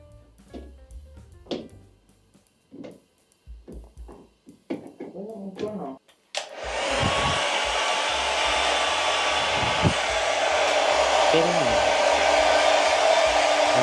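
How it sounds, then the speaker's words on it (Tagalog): Hair dryer blower running steadily at close range, a loud continuous whoosh that starts abruptly after several seconds of handling noises and scattered speech, then holds for the rest of the clip. "Parang mas bongga ito kapag mayroong blower."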